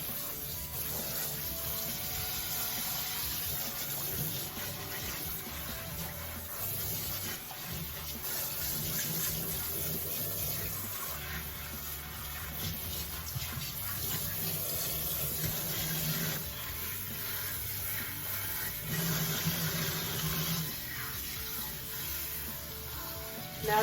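Warm to hot tap water runs steadily into a sink while a glued lace wig is wetted under the stream, a continuous close rushing splash with small shifts in flow and no talking.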